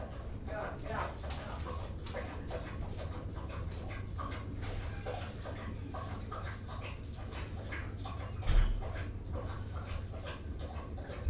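Drogo, a dog, whimpering and panting nearby in short repeated whines through most of the stretch, with a person talking intermittently around it.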